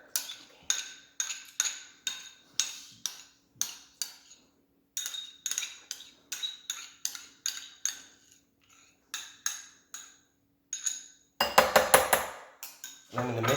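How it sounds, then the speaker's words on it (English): Slaw being mixed in a bowl with rice vinegar, heard as a long run of rapid, rhythmic clinks and scrapes of a utensil against the bowl, close and bright, with a brief louder flurry of clattering near the end and no talk. "I'm gonna mix it up and just make a nice slaw that's gonna top these tacos"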